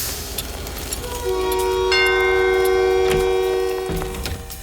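A train pulls away from a station with a long steady horn or whistle tone and rolling rail noise, fairly loud and close, fading slightly toward the end.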